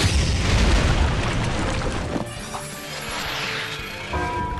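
A shot fired followed by an explosion in the Outerplane video game, a loud booming blast that rolls off into a fading rumble, with small bursts and pops trailing after.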